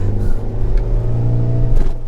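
A Renault Twingo engine strains uphill in second gear, a steady droning rev with a low rumble heard from inside the car, fairly loud and constant with no talking.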